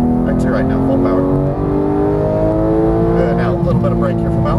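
A Porsche 911 GT3 on a track accelerates at full power, its engine a loud, sustained rising drone with stacked harmonics, while an instructor's voice talks over it from inside the car.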